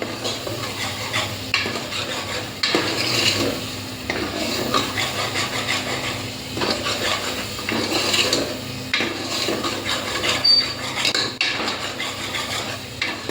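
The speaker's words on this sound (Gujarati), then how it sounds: "હવે આને થોડીક વાર આમ સાંતળવાનું" Pav bhaji vegetables with onion are sautéed in a pan, a spatula scraping and knocking against metal in a steady, repeated rhythm over a soft sizzle, close and continuous.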